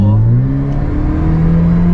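A car engine, a Proton X50, revs up steadily as the driver presses the accelerator, a loud close drone rising in pitch from inside the cabin.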